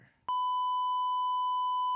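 A censor beep cuts in sharply after a short fragment of muffled speech, then holds as a single loud, pure steady tone to the end.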